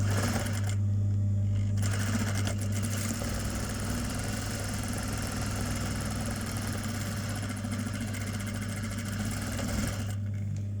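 Sewing machine stitching quilting lines into a wax print fabric book cover, a steady loud mechanical hum and rapid needle chatter running continuously, with a couple of brief pauses and no voices.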